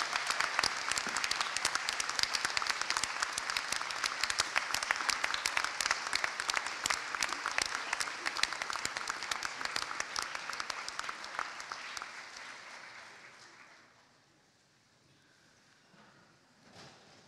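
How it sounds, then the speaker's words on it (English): Graduates at a university winter graduation ceremony give a long, enormous round of applause in a large hall, dense and sustained for about twelve seconds before fading to near silence. "turn to face your supporters and give them an enormous round of applause."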